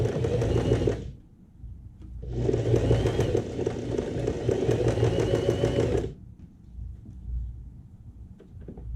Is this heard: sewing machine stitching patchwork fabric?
yes